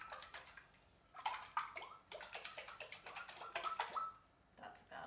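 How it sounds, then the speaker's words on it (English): Homemade white oil mixture shaken hard inside a sealed airtight container, giving rhythmic sloshing bursts of liquid that come in quick repeated pulses, briefly pause, then resume close and clear. "Then you pop your airtight container on. Give it a good shake."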